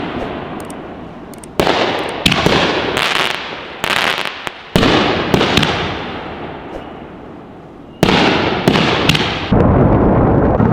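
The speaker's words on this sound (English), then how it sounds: "we are doing Shock and Awe by Shockwave Fireworks" Shock and Awe consumer fireworks by Shockwave Fireworks fire a rapid barrage of loud bursts and crackling pops, with repeated sharp blasts, brief lulls and renewed salvos, close and forceful.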